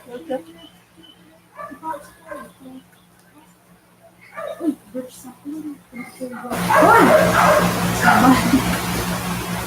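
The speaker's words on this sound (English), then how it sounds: "I don't know what the dogs are going crazy about out there" Several dogs bark and yip excitedly outdoors at a Christmas gathering, a loud burst of overlapping barking that comes after someone talks.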